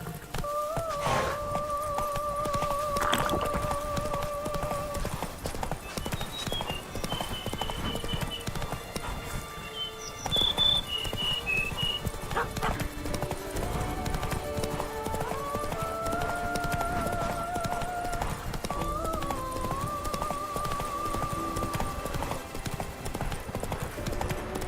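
In The Witcher 3: Wild Hunt, Blood and Wine, a horse's hooves clip-clop at a steady walk over a game soundscape. Occasional whinnies and tonal music or effects come and go above the hoofbeats.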